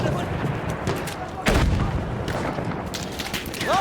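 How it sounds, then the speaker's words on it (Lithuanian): Gunfire and explosions in a video-game battle where a grenade is thrown, a dense loud wash of shots and booms with one heavier blast around the middle, mixed with game voices. "Ich werf eine Granate, aufpassen!"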